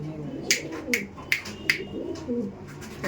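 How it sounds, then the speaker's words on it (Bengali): Mangalgiri pigeons coo close by in a loft, soft repeated rolling calls under sharp intermittent clicks or taps roughly every half second. "এগুলো সব মঙ্গলগিরি পায়রা"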